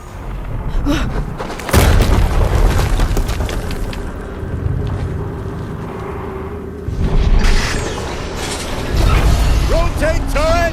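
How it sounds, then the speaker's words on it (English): Deep booming explosions from the Horizon Zero Dawn Remastered game, with two heavy bursts near the start and middle over a rumbling, mechanical game soundscape. "Another explosion."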